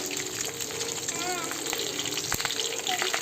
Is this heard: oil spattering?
yes